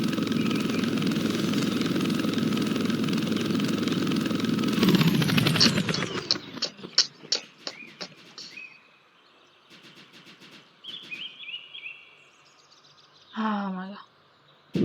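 A helicopter in the Roblox game, a Blackhawk, gives a steady loud rotor and engine drone for about five seconds, then cuts off abruptly, followed by scattered clicks and short game sound effects.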